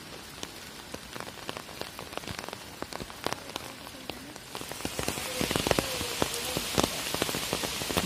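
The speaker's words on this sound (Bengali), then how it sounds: "2 ঘন্টার বৃষ্টি মাত্র, এখনো হচ্ছে।" Steady rain falls on a village canal, a dense close patter of drops striking surfaces that grows heavier and louder midway through.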